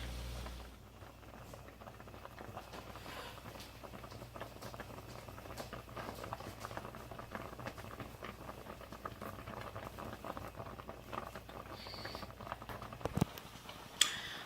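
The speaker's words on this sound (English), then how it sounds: "They're boiling, and they're actually got the ingredients in it and coming to a great taste." Apples and strawberries bubble gently in a pot with a flour-and-water slurry for a cobbler, giving a soft, steady boiling patter with faint ticks and pops for the whole stretch.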